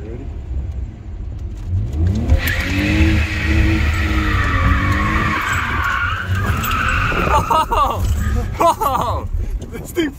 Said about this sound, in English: try to do a full donut and then manji